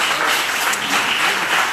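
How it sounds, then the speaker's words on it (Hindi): A congregation at a Hindi church sermon breaks into clapping, a short, dense burst of many hands that stays loud and steady for a moment. "या ताली बजाना चाहिए था आप लोग।"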